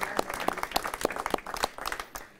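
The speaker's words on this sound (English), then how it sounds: "Let's give them a round of applause for that." Audience applause at a mayoral news conference in Albuquerque, a steady patter of many hands clapping at moderate distance for a couple of seconds, tapering off at the end with no talking.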